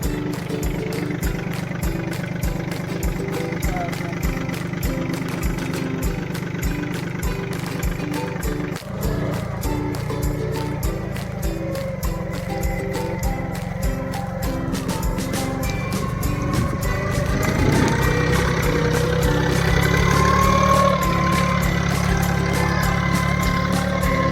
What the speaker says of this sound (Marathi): हे अशा प्रकारे सोयाबीनची पेरणी केली ट्रॅक्टरच्या साहाय्याने